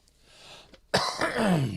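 A single close cough bursts out abruptly after a short quiet throat sound, followed by a raspy, trailing exhale with no talking.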